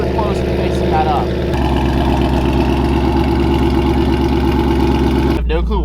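A 700 whp procharged Mustang idles while warming up, a loud, close, steady low burble with a lumpy rhythmic pulse and a brief higher mechanical whine, the tone shifting slightly partway and near the end.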